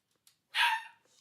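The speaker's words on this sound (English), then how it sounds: "Whoa, neighbor's dog." A neighbor's dog gives a single sharp bark nearby, loud and brief, with a faint yip before it and quiet around it.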